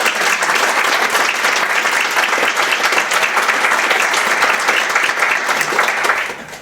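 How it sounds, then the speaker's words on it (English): Steady, dense audience applause fills a school event hall, a full crowd clapping loudly and evenly throughout before tapering off at the very end. "Let's give them a round of applause."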